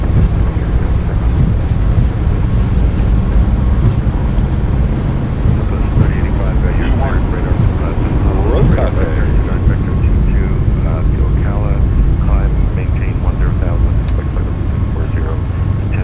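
Boeing 737 MAX 8 jet engines roar through a takeoff roll in a flight simulator on a Southwest route in Hawaii, a loud sustained rumble with brief voice chatter faintly over it.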